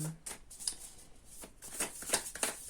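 Tarot cards are shuffled in several quick, crisp bursts of flicking and riffling, close and fairly soft, with brief pauses between them.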